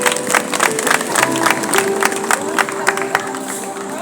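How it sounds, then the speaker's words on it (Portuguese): A church congregation at an Adventist service in Fortaleza, Brazil, breaks into loud, lively applause with some cheering, a dense clatter of hands that holds strong from start to finish. "Uma salva de palmas para ela."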